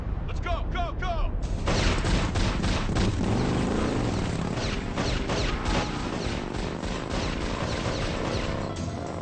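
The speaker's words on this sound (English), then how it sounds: "That was plastique or C3, and a lot of it." A massive plastique or C3 bomb blast erupts after a few shouted voices, followed by a long roaring, crackling wash of debris and rumble that slowly fades.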